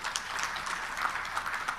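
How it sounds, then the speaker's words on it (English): Faint applause from a large audience at an African democracy conference in Arusha, steady distant clapping lasting about two seconds. "Let us give a big round of applause for the excellent organization"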